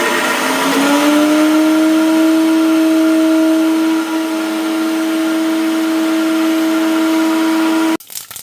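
Grated coconut, shallots and green chilies being crushed in a mixer, running as a loud steady motor whine with a constant pitch for about eight seconds before cutting off abruptly into brief clatter.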